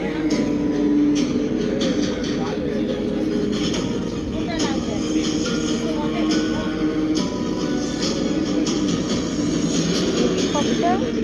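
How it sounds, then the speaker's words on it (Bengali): A helicopter engine runs in a GTA video game, a steady droning whir with a layered mechanical hum that holds constant and fairly loud throughout. "হেলিকপ্টার কি নিলাম দেখো হেলিকপ্টার স্টার্ট হয়ে গেল।"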